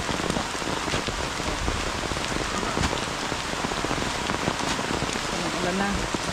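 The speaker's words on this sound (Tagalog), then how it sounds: "Ulan na." Steady rain pours down outdoors near a burrow during a snake hunt, a dense continuous hiss of drops on surfaces holding at an even level throughout with no pauses.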